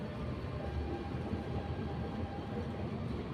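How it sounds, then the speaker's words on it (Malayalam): A metro train rumbles steadily and continuously at Etisalat metro station in Dubai, giving a broad, even roar with a faint rail clatter and no speech. "Etisalat metro സ്റ്റേഷനാണിത്."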